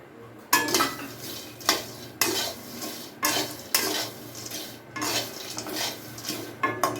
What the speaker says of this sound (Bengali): কড়াই আমি বসিয়ে দিয়েছি, এই বাদামটা দিয়ে দিচ্ছি,